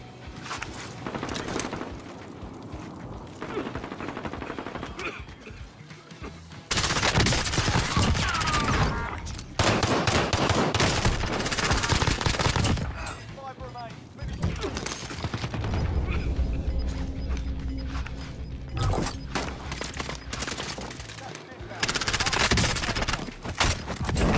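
Rapid MP7 submachine gun fire in Warzone, repeated long bursts and short volleys across the stretch, loud and close, with mechanical clicks and brief quieter gaps between engagements.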